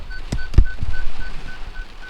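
A Ford Transit Custom's rear parking sensor sounder gives regular short electronic beeps at an even pace, with a couple of thumps and clicks early on, no talking.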